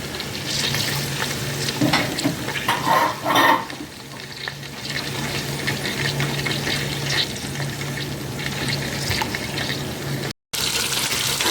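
Onion rings frying in a pan of hot oil, giving a loud continuous crackling sizzle with splattering bursts and stirring sounds throughout, then a brief dropout near the end.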